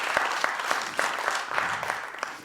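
Festival audience applauding steadily for the publicity team, a dense, even wash of many hands clapping with a few sharper claps standing out, moderately loud throughout.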